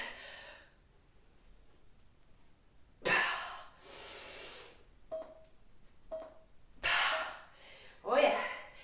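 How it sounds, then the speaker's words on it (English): Heavy breathing bursts during a dumbbell strength workout, several loud forceful exhales and gasps repeating roughly every second or two after a quiet opening, close to the listener. "Breathe out on the way up. Hold your breath on the way down."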